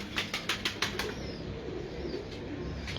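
A pigeon on a rooftop beats its wings in a quick run of about six sharp flaps in the first second, then the sound settles into quiet background noise with a couple of faint later flutters.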